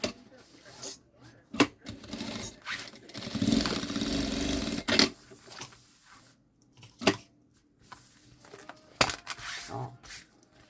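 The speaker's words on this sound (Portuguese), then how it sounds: "Agora, eu vou passar uma costura em toda a volta." Sewing machine stitching a seam around the edge of a synthetic-material backpack panel, a steady buzzing run in the middle with clicks and fabric handling around it, close up and without talk.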